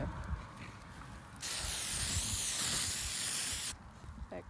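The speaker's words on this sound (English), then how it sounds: "Spray it on there." A spray bottle of Amsoil Mudslinger is sprayed onto a scratched surface, one long steady hissing burst between quieter handling noises.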